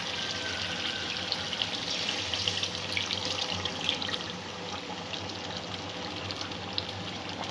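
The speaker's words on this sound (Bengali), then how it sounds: "এখানে অল্প একটু মশলা ধোয়া জলটা দিয়ে দিচ্ছি।" Water splashes steadily into a chicken curry pan, a continuous close pour of spice-rinsing water with a bright hissing wash and no pauses.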